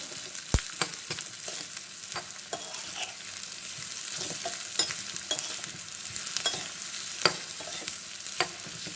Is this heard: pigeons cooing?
no